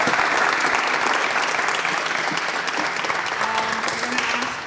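A large crowd at a Tech4Democracy Venture Day event in Cape Town applauds the jury with loud, sustained clapping that stays full and continuous throughout, with a faint background murmur.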